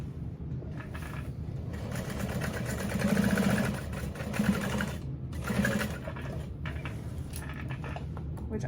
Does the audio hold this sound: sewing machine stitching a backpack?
yes